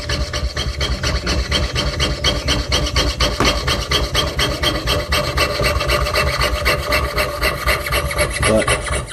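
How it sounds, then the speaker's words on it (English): Coins being cut with a rasping, sawing scrape that repeats in a fast, steady rhythm, close and loud, with no talk. "It's not real exciting to watch me cut coins."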